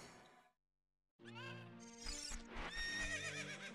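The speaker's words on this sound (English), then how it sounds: "Horse, come here." A horse in the video game The Legend of Zelda: Ocarina of Time lets out a loud, drawn-out neigh with quivering whinny tones after a brief gap of silence, with clip-clop hooves mixed in.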